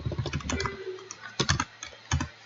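Computer keyboard being typed on while writing Python code for a game, quick clustered keystrokes in short bursts with pauses between, close and fairly quiet.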